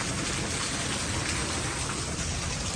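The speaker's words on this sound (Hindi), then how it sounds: "इस तरफ देखें कितनी तेज़ बारिश है और पानी ही पानी है।" Heavy rain pours down in a dense, unbroken roar of water hitting surfaces, loud and steady throughout with no talking over it.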